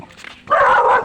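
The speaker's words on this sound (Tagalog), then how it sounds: "May aso dito" A dog lets out a short loud bark or yip at close range, preceded by faint rustling, somewhere near a river crossing.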